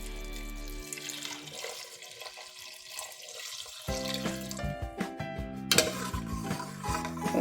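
Water poured into a pot for Kerala-style wheat payasam (gothambu pradhaman), two and a half cups, a steady splashing pour near the mic mixed with clinks of pans and utensils, with background music and no speech.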